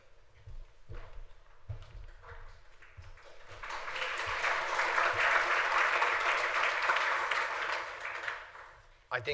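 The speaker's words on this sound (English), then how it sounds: "I think the applause, if merited, will come at the end, but I appreciate the gesture" Lecture audience applause as a speaker takes the stage: scattered footsteps and low sounds at first, then a broad swell of clapping that builds, holds for several seconds and fades, with talk around it.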